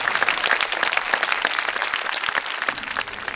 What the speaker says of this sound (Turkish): Onun için bence bir kez kendinizi kutlayın ve kendinizi alkışlayın